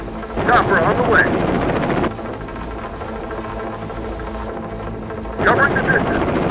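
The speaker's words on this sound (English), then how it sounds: "Ready for target. Chopper on the way." Helicopter and gunfire in the Terminator: Dark Fate - Defiance video game; loud bursts of rapid machine-gun fire over a steady rotor drone, dropping to a lower hum midway before the firing returns.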